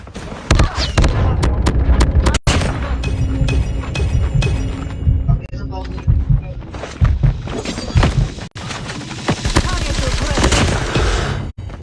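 Loud, dense gunfire from the mobile shooter Call of Duty Mobile during a hardpoint match: rapid bursts and single shots with blasts and impacts, nearly constant across the whole stretch, with game announcer callouts and players talking over it.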